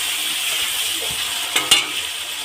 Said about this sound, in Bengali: তো জিরেটাকে বেশ কিছুক্ষণ কষিয়ে নেব তো এবার দিয়ে দিলাম হলুদ পরিমাণ মতো হলুদ